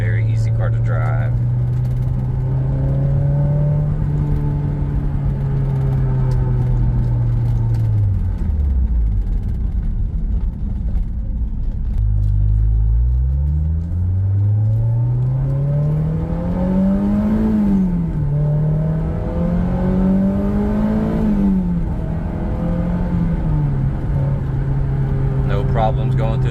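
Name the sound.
2003 Honda S2000 engine while driving and shifting gears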